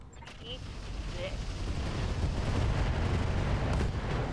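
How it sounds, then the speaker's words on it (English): A mech's ammunition cooking off and blowing apart during a battle in the video game Roguetech, heard as a rumbling, sustained boom that swells and holds loudly over a few seconds amid game sound. "I think that was an ammo explosion"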